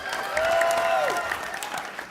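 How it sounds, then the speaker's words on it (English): An audience at a 2009 Bungie panel at PAX claps in a dense, steady burst of applause lasting about two seconds, with a whistle rising and falling over the clapping. "Hold the applause. That's enough."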